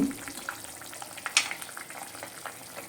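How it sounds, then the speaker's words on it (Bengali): Taro and potatoes are stirred in a pot: soft, irregular scrapes and light knocks over a low, quiet simmering hiss, with one brief sharper clatter near the middle. "খুব ভালো করে এটা নেড়ে দেব"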